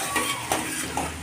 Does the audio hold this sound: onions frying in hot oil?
yes